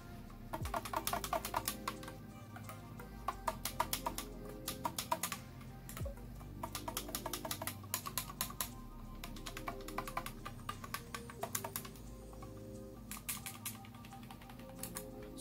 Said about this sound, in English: I'm going to have you listen to the keys and see how clicky they are compared to the R13